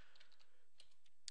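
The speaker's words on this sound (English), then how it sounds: "I begin typing in something like lawn care" Soft, quick keystrokes on a computer keyboard tap out a short burst of typing, faint and close with no other sound around them.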